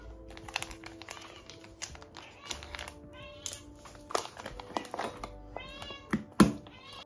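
Two cats, Rhea among them, meow repeatedly around mealtime, several separate cries rising over light keyboard typing and household clatter, the calls near and fairly loud.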